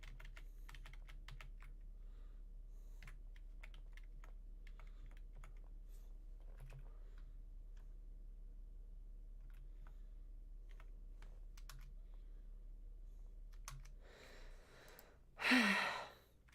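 Scattered computer keyboard keystrokes click sparsely and quietly during a heavily modded Skyrim gameplay session, then a loud breathy sigh comes near the end.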